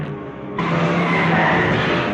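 Car skidding in a horror film trailer: a loud, sustained tire screech that cuts in sharply after a brief quieter lead-in and holds steady to the end.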